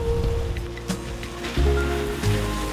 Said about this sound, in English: It's raining fit to bust.